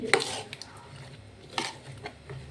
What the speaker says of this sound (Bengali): সব ভালো করে ঘেঁটে নেব যাতে মিশ্রণটার মধ্যে সব ফলগুলো ভালোভাবে মেশে